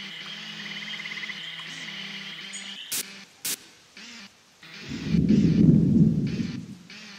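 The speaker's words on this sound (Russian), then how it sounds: "Так, на улице гроза." A thunderstorm in the video game Finding Bigfoot: a low rumble of thunder swells near the end over a steady bed of rain and night ambience, with a couple of brief sharp clicks before it.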